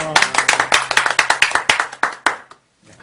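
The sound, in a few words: clapping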